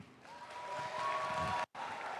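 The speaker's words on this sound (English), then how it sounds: "Round of applause for team 8280." Applause from a crowd at a FIRST robotics district event in Troy for a competing team is moderate and continuous. It cuts out briefly near the end.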